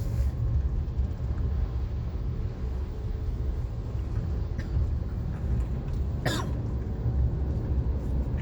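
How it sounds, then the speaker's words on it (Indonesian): One sharp cough from a man riding in a car through central Jakarta, brief and close over a constant low road rumble from the moving vehicle. "gue batuk"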